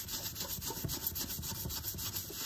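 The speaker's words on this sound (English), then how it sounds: "we're gonna scrub really hard" Hard rubbing of a rag with Pink Stuff cleaning paste over burnt-on spots on a glass-top stove, a steady close scrubbing rasp with quick back-and-forth strokes and no talking.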